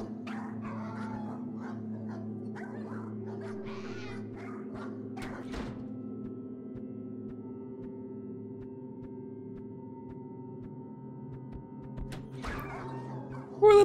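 Dogs in cages in a video game bark, yip and whimper at a distance in a scattered series of short calls over a low steady hum, growing sparse toward the end with one last burst.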